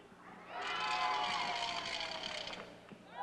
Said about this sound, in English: You can hear in the background the German team cheering for their bet.